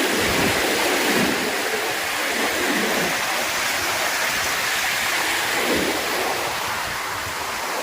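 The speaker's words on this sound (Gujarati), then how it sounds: "જોરદાર પાણી આવી ગયું છે." A flooded river near farm fields by a village roars past in a loud, continuous rush of churning water, close and unbroken, with no talking.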